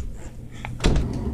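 A door opening indoors, one sharp broadband clatter and scrape about midway through, close and fairly loud against low background hum.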